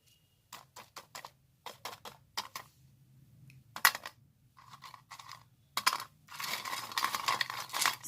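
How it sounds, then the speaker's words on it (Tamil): Crispy fried cauliflower 65 is bitten into up close, giving a run of sharp, separate crunches that become a denser, continuous chewing crackle. "சவுண்டு கேட்குதா? நல்லா கிறிஸ்பியாக இருக்குது."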